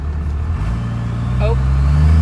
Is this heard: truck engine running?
yes